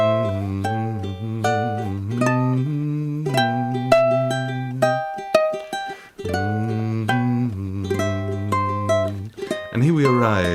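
Solo ukulele picks through a song, a steady fingerpicked pattern of plucked notes and chords over about ten seconds, close and clear with no talking.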